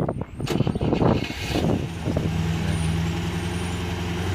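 A Rover P6 with faulty starter wiring turns over and catches, a close engine settling into a steady low idle after a few rough cranking bursts.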